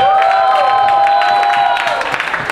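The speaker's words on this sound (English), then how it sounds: "Give him a round of applause." Loud audience applause and cheering for a drag queen contestant at a lip-sync round, dense and steady, with a sustained tone running through and a few voices rising above the clapping.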